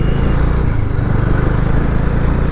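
A Bajaj Dominar 400 motorcycle engine with a rebuilt motor and a shim noise idles and runs close by, a loud steady low throb with a rapid pulsing rhythm and no talk.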